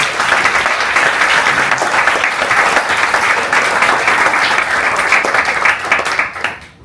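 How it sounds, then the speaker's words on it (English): A meetup crowd gives a presenter another round of applause: loud, close, continuous clapping that holds steady for about six seconds before fading out. "We'll give you another round of applause."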